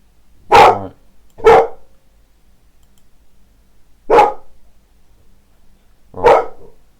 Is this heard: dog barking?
yes